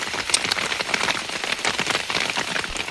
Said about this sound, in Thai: ฝนตกกัน